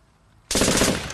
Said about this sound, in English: Since you wanna run around with guns, let one off in the air!